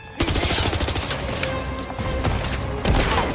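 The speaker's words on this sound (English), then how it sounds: "Over there! Gunshots!" Rapid bursts of gunfire crackle nonstop in a 007 video game, dense overlapping shots and booms filling the whole stretch, loud and close, like an intense firefight.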